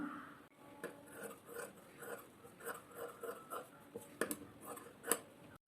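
Scissors snip away excess lining fabric on a jacket being sewn: a series of quiet, close, crisp cuts at an uneven rhythm, each with a faint metallic rasp.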